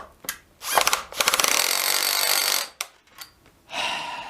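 Milwaukee M18BPD and Dewalt DCD776 cordless drills drive into a workpiece, with short revving bursts and then a sustained loud grinding whir that stops abruptly, followed by brief spurts and another burst of motor noise.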